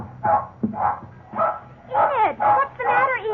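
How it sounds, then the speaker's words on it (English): A young terrier barks wildly in an old-time radio drama, loud repeated yips and barks in quick bursts, some rising into whimpering, yelpy cries toward the end. "You can understand our big surprise when suddenly Enid began barking wildly"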